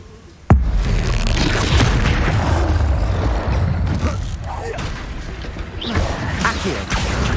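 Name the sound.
Expulso explosion spell from the video game Hogwarts Legacy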